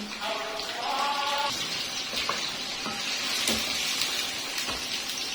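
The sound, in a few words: chicken frying in oil on high heat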